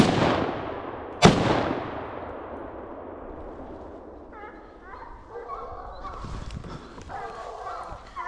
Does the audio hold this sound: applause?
no